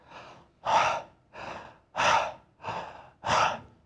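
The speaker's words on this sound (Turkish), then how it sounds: "Mesela şimdi nefes alırız." Six slow breaths alternate in and out, each a breathy rush lasting about half a second, close to the microphone with no talking.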